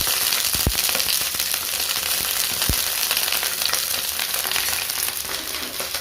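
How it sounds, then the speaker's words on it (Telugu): Green chillies frying in hot oil for a pachadi, a loud, dense sizzle with sharp popping crackles, two strong pops standing out early on. "ఇట్లా పచ్చిమిరపకాయలు వేసుకోవాలి."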